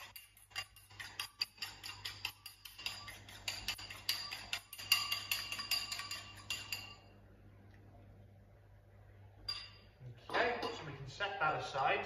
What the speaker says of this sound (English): I'm just going to whisk it lightly with a fork